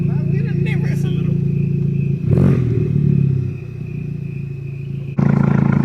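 Loud, steady idle of a 2021 Honda Civic Type R FK8 fitted with an RV6 catless titanium downpipe, a deep continuous drone with a brief surge partway through and people talking over it.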